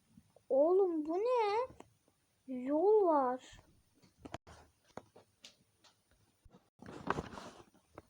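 Two drawn-out, wavering cat meows from a video game, close and loud, separated by a pause, followed by faint clicks and a brief rustle.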